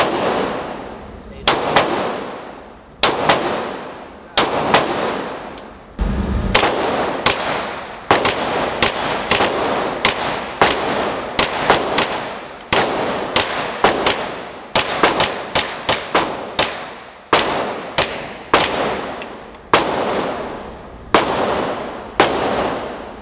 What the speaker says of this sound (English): That was the fastest 20 shots of my life.